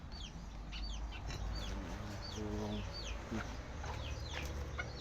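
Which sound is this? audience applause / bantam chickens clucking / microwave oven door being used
bantam chickens clucking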